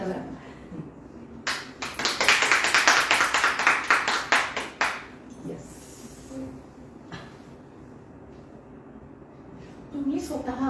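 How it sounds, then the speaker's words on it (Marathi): An audience applauds at a lifestyle achievement award ceremony, with a dense burst of clapping that swells quickly, holds for about three seconds, then thins out into scattered claps and quiet room murmur. "आणि जेवढे आहेत तेवढे टाळ्या वाजवा"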